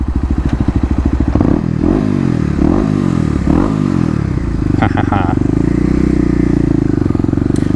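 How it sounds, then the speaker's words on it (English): A 2018 Kawasaki KLX250 dirt bike engine revs and pops loudly in an enclosed space, its exhaust echoing, with a burst of laughter partway through. "Kind of want to hear the exhaust echo in here."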